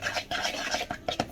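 Tuna mousse ingredients are stirred together by hand in a bowl, producing close, uneven scraping and swishing strokes with short pauses between them.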